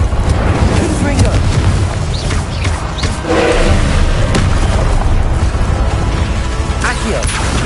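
A Confringo blasting curse from a Harry Potter video game erupts in a loud, sustained rumble of explosive booms and debris, dense and continuous throughout, with voices faintly mixed into the chaos.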